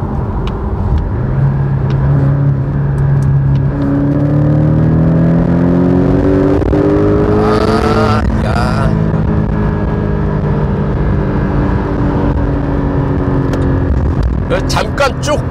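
A Porsche 718 Boxster GTS, a mid-engine roadster, accelerates hard, its engine note climbing steadily through the revs, then briefly dropping at a gear change before rising again, with someone talking over it.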